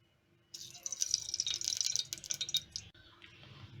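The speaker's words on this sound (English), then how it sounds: "We are going to pour about 4 teaspoons of oil into it." Cooking oil, about four teaspoons, poured into a pressure cooker before frying curry leaves and onions for an Anglo-Indian chicken curry; a close, bright trickling and spattering runs for about two and a half seconds, then fades to quieter rattles.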